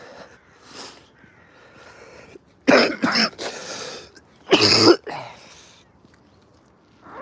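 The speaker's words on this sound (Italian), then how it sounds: "Mamma mia che tosse." A person coughs on a hike along the Sella del Diavolo, two close, harsh bursts of repeated coughing, one long and one short, with quieter breathing and murmurs between.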